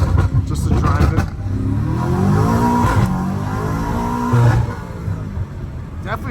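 BMW M5 Competition accelerating on a wet road, engine revving up in rising sweeps with audible gear shifts, loud and close, with someone talking over it.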